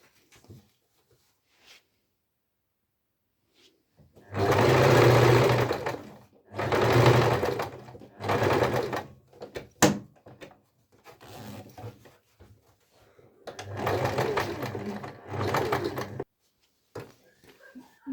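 Several bursts of a sewing machine stitching a zipper onto fabric for a small wallet, each a few seconds of close mechanical whirring separated by quiet pauses and faint handling sounds.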